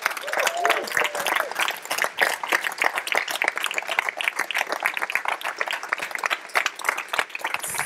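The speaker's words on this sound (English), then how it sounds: "a big round of applause to the team" Audience applause at a startup insurance-tech demo day closing, sustained dense clapping from a large crowd filling the whole stretch, loud and even.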